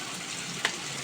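Tempering with hing, tomato and curry leaves fries in a pan, giving a soft steady sizzle with light crackling and one brief sharper spatter partway through, heard alone and close.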